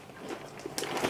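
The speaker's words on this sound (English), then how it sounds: "Crunchy. It just tastes like raw pasta when you bite it." Someone bites into a crunchy, sweet pasta-shaped snack, giving a brief close crunch and crackle with no voices.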